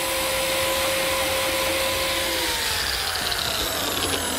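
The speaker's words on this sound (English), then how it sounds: "To reinforce the miter joints, I'm cutting slots for these number 0 biscuits" A biscuit joiner runs at a loud, steady whine while cutting slots for number 0 biscuits in walnut miter joints, close up with no talk, its pitch drifting slightly as the blade works.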